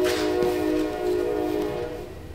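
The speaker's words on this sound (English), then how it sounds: "Train's going" A train passes close by, carrying a sustained horn-like tone over a rolling rumble that fades slightly toward the end, heard alone.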